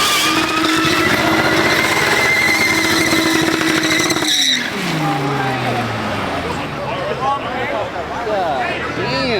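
A BMW doing donuts holds a high, strained engine rev with squealing tires, then drops off sharply and the tire screech rises alone. People are talking and shouting over it.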